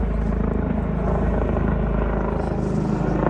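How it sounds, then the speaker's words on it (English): A rescue helicopter passes by in a steady, loud rotor thump and engine roar that sustains throughout. "you watch the rescue chopper flying away from you"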